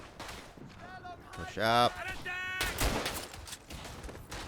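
Hip-fired rifle shots ring out in the Verdun World War I shooter, coming as scattered sharp cracks mixed with a shouted voice and battlefield noise, the loudest burst arriving partway through.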